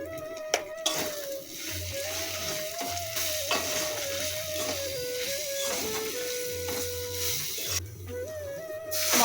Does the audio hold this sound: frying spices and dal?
yes